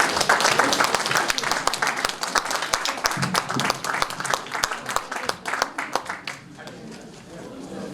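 Audience applause welcoming an Ewha Womans University professor to the stage at a Korean academic lecture, dense and steady, then thinning to scattered claps and fading near the end.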